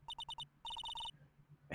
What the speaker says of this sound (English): Hey, Nick, it's your phone.